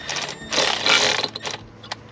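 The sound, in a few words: hand tightening oil pan bolts on BMW 135i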